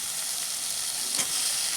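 Chopped tomatoes and a ginger-garlic-green chilli paste fry in a pan with a strong, steady close sizzle and a brief stirring rustle near the middle, no talking.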